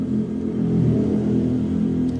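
A motorcycle with a loud open exhaust passes nearby at night, a steady, throaty mid-pitched engine rumble that swells slightly and holds for a couple of seconds.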